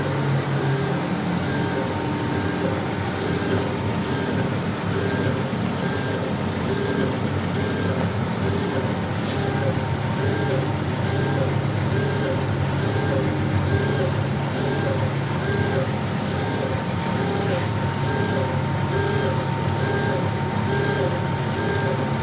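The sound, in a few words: laser cutting machine suction motor extracting smoke and dust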